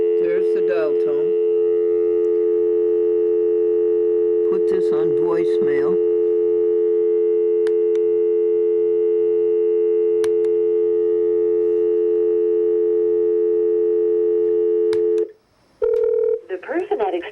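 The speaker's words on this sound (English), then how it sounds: "There's the dial tone." A steady telephone dial tone hums continuously for most of the clip, with a few brief bursts of speech over it before it cuts off near the end.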